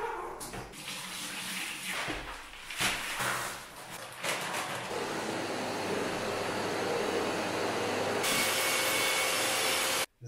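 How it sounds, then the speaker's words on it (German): A dust extraction vacuum on a floor grinder runs during floor levelling work, a loud continuous broadband roar after some irregular clattering at the start, steady until it cuts off abruptly. "So, das ist die Absaugung."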